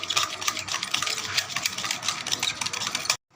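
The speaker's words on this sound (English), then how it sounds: "Tilt the bowl and start whisking." Dalgona coffee mixture whisked by hand in a tilted bowl gives a rapid, continuous clatter of whisk against bowl, close and fairly quiet, ending abruptly.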